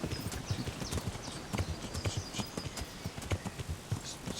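Horse hooves clip-clop in a steady, even rhythm as a rider travels in the video game Kingdom Come: Deliverance, moderately quiet over a faint outdoor ambience with no talking.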